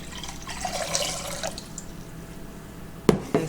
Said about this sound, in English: So here's my water. I'm pouring it in.